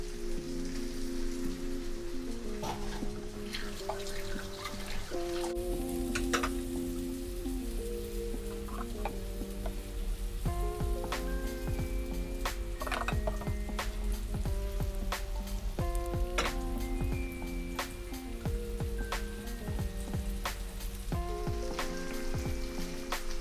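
Masala-coated squid fries hard in a hot pan, a dense steady crackle and spatter of oil running throughout, with a faint tonal musical line beneath.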